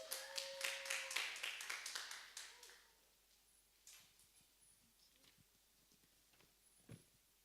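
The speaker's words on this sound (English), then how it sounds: "So please, can we clap for Gloria Ako?" Audience clapping at an evening speaking event, a burst of distinct hand claps in the first few seconds that fades out, leaving near-silence with a few faint knocks.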